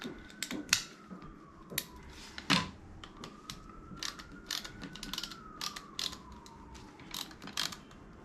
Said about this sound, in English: Let me make sure I get my ratchet.